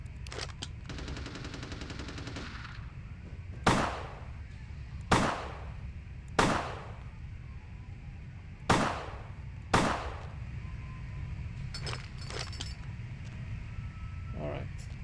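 Video game gunfire in a Halloween-themed shooting tutorial, five sharp separate shots spaced about a second or two apart over a low background hum, with a short burst of rapid fire near the start.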